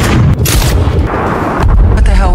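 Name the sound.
gunfire and explosion in the film The Gorge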